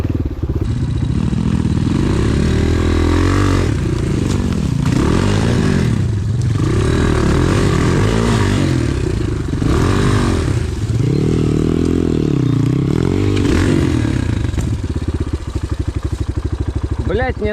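An enduro motorcycle rides through forest, its engine revving up and down in repeated surges with rattling and clatter over rough ground, loud and close throughout.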